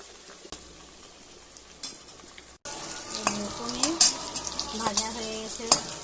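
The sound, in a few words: paneer cubes frying and being stirred in a pan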